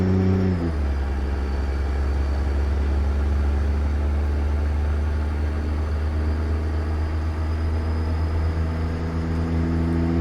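A steady Caterpillar C-15 truck engine drone with an Allison automatic transmission in American Truck Simulator hums at a constant pitch, with a brief drop early on, then a smooth sustained rumble and no talking.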